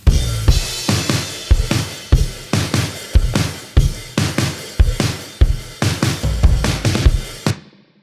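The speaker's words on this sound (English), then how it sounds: "The drums sound like this." Drum track from a surf rock song, a punchy kick and snare beat repeating in a steady driving rhythm with crashing hits, loud and upfront, ending in a sudden stop.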